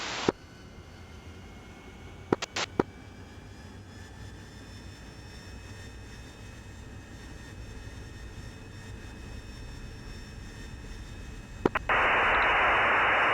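Fixed-wing aircraft engine spooling up for takeoff on runway 28 in calm winds, a steady jet-like whine with tonal harmonics held throughout, broken by brief radio clicks and squelch, ending in a burst of radio static.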